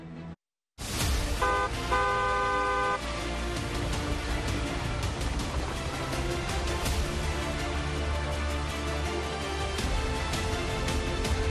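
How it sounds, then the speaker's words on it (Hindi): A car horn sounds in a couple of short, bright honks near the start, then gives way to a loud, dense, busy backdrop that runs on without talk. "दूसरों को भी सावधान करने के लिए हॉर्न बजाएं"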